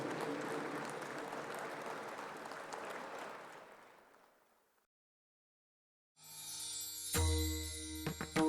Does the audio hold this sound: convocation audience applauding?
yes